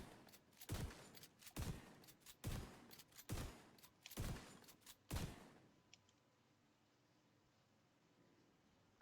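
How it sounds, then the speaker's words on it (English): A KSG shotgun in The Division 2 fires five loud, evenly spaced booming blasts, each with a short decaying tail, followed by a few seconds of near silence. "this is the shotgun. The audio is a little bit bugged on the reload, but this is what it sounds like when you fire it"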